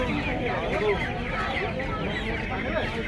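Chickens cluck at a busy poultry market in Uluberia, Howrah, their calls mixed into a constant dense din of birds and crowd voices.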